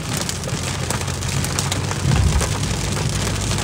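Hail drums on a car being driven through a storm, a dense, loud, continuous patter of hard impacts on the body and roof with a low road rumble beneath.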